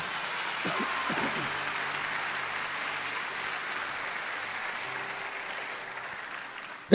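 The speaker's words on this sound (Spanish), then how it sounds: "Dale un aplauso fuerte a Dios." A church congregation applauding, a broad continuous wash of clapping heard from a distance at moderate level, with a few murmured voices early on and a sudden loud bump at the very end.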